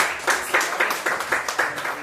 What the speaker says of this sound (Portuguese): Receba o servo do Senhor com as palmas bem abertas.